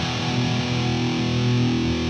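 Electric guitar played through a Blackstar HT-5 amp and a pedalboard with noise gate and reverb, a short burst of thick, distorted sustained tone with steady hum underneath, played alone.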